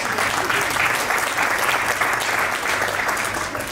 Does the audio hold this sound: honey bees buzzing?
no